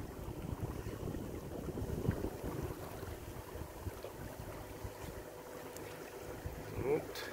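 Yacht under way on open water near islands, with a steady wash of wind and water noise throughout and faint splashes, no clear voices.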